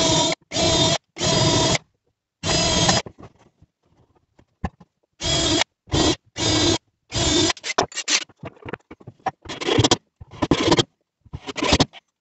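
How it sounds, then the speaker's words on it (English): A power drill drills out a metal hasp on a homemade camper, running in repeated loud bursts of one to two seconds with short pauses between them, followed by scattered clicks and scrapes. "So I drilled out this last hasp here"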